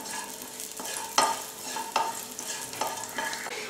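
Spices crackle and sizzle in hot oil in a pan, with occasional sharp pops and a stirring scrape over a steady frying hiss.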